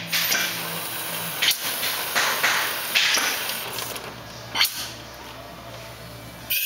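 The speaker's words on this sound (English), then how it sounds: "Then he'll turn the air back on to chase that solvent out." Compressed air pushes solvent out through a dispensing valve in a continuous broadband hiss that fills the whole stretch, with a few brief knocks and clicks breaking through along the way.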